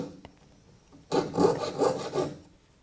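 Several rapid rasping strokes of a hand saw cutting through thin aluminum sheet, close by, after a quiet second, with no voices.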